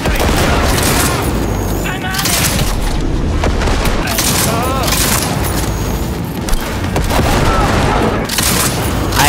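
Rapid gunfire and heavy booms burst repeatedly in a Cyberpunk 2077 firefight, loud and dense, layered with shouting game characters and a player talking over the shooting.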